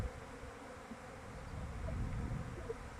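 Honey bees at a springtime apiary, a dense continuous buzzing swarm heard close and steady, with no voices.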